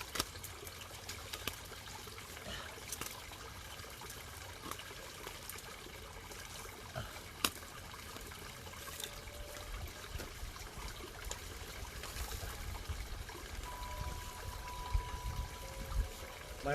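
Water bubbling and trickling in a backyard pond beside a rock garden: a faint, continuous babble with occasional soft splashes and clicks, and no one talking.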